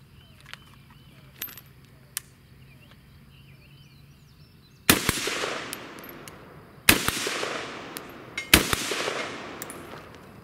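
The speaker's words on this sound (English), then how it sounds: "Let's go fire a few rounds." A Century VZ2008 rifle, an AK-style gun with an aluminum magazine, fires three loud, sharp shots spaced about two seconds apart, each ringing out with a long echoing tail, after a few seconds of quiet outdoor ambience with faint clicks.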